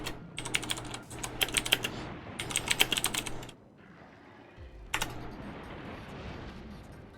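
Someone types on a computer keyboard during a Monster Hunter: World gaming session, with two dense bursts of clicking keys over a low background hum, a pause, then a softer stretch of activity.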